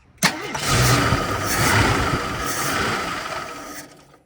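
An AMC Concord engine, parked for 26 years, cranks with a sharp onset, then catches and roars steadily for a few seconds before cutting off abruptly, close and loud.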